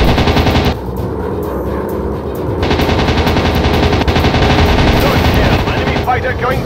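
Loud, continuous rapid machine gun bursts from WW2 fighter aircraft in a PC dogfight game, rattling steadily with engine drone beneath and a brief dip in intensity early on.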